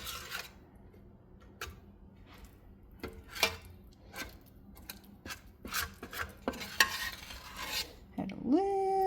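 Soup is stirred in a pan with a scorched bottom, a spoon rasping and scraping in uneven strokes close by, ending in a brief rising tone.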